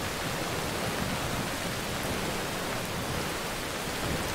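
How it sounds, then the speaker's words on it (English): Heavy rain pours steadily in the Skyrim video game, a dense, even hiss of falling water that holds constant and fairly loud throughout. "it's pouring rain"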